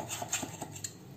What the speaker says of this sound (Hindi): अब हम एक चाकू ले लेंगे और चारों तरफ से इस तरह से